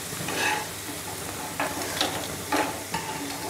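Lentil fritters (daler bora) of chana dal with green chilli fry in oil with a soft, continuous sizzle and occasional stirring or scraping bursts.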